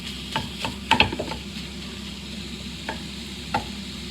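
Food browning in a pan, turned with an egg flip spatula: a soft steady sizzle under a few close scrapes and taps, clustered early and then spaced out.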